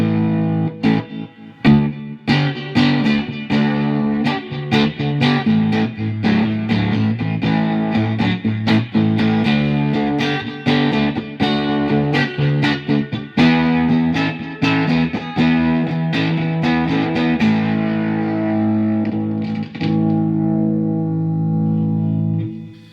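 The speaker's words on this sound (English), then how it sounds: "So you get the overdrive sound." A San Cristobal humbucker cigar box guitar runs through an overdrive booster, a Fender reverb pedal and a delay pedal. It plays loud, gritty distorted chords and riffs with echoing tails, then a final chord rings out and decays.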